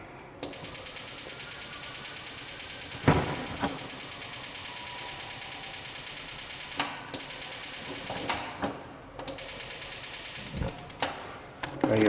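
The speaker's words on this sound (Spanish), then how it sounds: "Ya vamos a probar el encendido del horno." Gas oven igniter on a stove clicking in rapid, steady trains of sparks, broken by a few short pauses, close and fairly loud with no talking.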